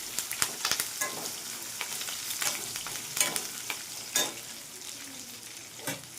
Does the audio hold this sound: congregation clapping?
no